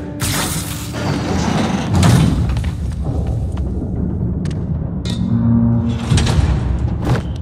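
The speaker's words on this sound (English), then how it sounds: "You were right, Jeff. Trap door." A heavy trap door grinds open in Marvel's Spider-Man, a loud close mechanical rumble lasting several seconds, broken by sharp clanks and a deep thud partway through.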